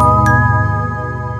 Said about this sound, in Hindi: पहले देखिए वाइब्रोफोन कितना प्यारा सा है।